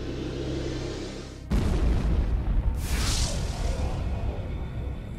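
A deep, heavy boom standing in for a supernova explosion erupts abruptly after a low rumbling drone, followed by a rushing, whooshing blast that swells and slowly fades; loud, with no talking.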